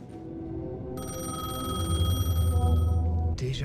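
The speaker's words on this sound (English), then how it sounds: "payphone was ringing. Somehow I knew the call was for me." A payphone rings in the video game Alan Wake 2 with a bright, metallic bell tone that starts after a low ambient hum and continues steadily for about two seconds before stopping.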